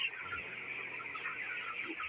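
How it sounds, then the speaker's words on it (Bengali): Young 21-day-old chickens on a poultry farm chirp and cluck together in a dense, continuous chorus, close and steady throughout. "এই যে দেখেন এগুলা সবগুলো ছোটো মুরগি, এখানে সবগুলো ছোটো মুরগি।"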